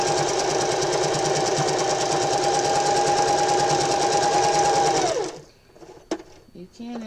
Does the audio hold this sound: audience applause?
no